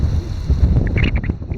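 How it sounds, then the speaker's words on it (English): Outdoors on a mountain hike at Bald Knob near Mountain Lake, Virginia, wind buffets the microphone in a loud, low, blustery rumble with faint higher squeaks, no voices. "A little windy."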